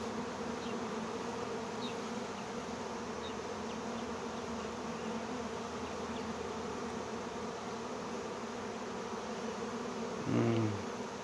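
A honey bee swarm being captured, a continuous, even buzzing hum of many bees sustained at moderate level throughout, with a brief louder bump near the end.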